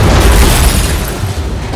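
A bomb blast in a film scene hits as a loud, heavy boom with deep rumbling low end that rolls on and fades slowly over under two seconds.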